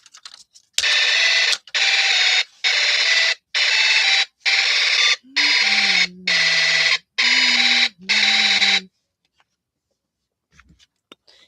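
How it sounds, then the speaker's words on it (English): A Snap Circuits vibration-activated alarm beeps loudly and close in eight evenly spaced bursts of about a second each, then falls silent apart from faint clicks and handling. "I'm gonna activate this alarm again"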